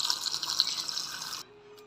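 Water pours steadily into the tub of a washing machine at home during laundry, a close hissing splash lasting over a second before it cuts off abruptly, leaving a quiet low hum.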